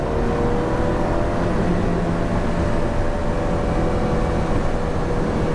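An Alfa Romeo 4C sports car engine runs loud and steady with a throaty, sustained drone and a faint whine on top, close by, no speech.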